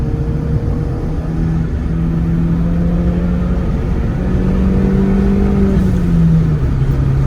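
A car's engine drones loud and close while it weaves back and forth to warm its tires, the pitch rising and falling steadily with no voices.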